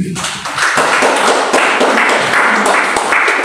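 Applause from a church worship congregation in a Jakarta apartment building, a steady dense wash of clapping filling the room at fairly loud level.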